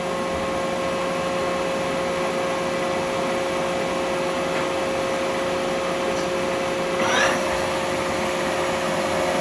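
Continuous, even mechanical whir with steady tonal whine from the spindle of a Union BFT 105 CNC horizontal boring mill turning at a few hundred RPM, with a brief rising swish partway through.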